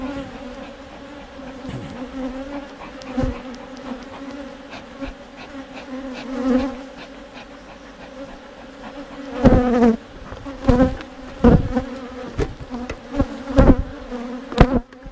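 Honeybees buzz loudly around an open beehive during a brood box inspection, a dense continuous drone with close passes and sharp clicks and bumps from handling, no talking.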